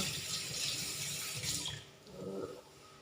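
Tap water runs steadily while fish is rinsed for a homemade Thai catfish curry with luffa gourd, a broad splashing stream that eases off and returns closer toward the end.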